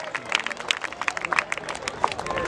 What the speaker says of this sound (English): Can we have a loud round of applause for Mr. Bimal Parekh sir here.